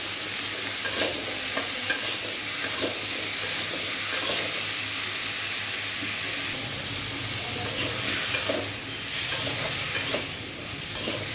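Ash gourd pieces fry in a pan with salt, giving a steady close sizzle broken by repeated scraping stirs throughout, with no talking.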